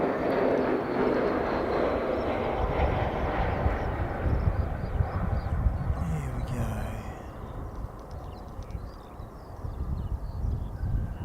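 Fixed-wing aircraft landing, a loud broad engine roar close at first that slowly fades and lowers in pitch as it rolls away, with no talking.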